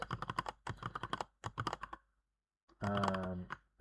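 Fingers type on a computer keyboard in quick bursts of clicking keystrokes, with a short pause and then a sustained tonal sound near the end, close and fairly quiet.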